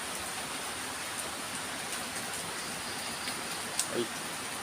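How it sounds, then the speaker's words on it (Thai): Steady rain falls outside a rural house, a soft, even hiss that stays faint and continuous throughout, with a brief louder patter near the end. "ฟังเสียงฝนเอาโลดพี่น้องเลย"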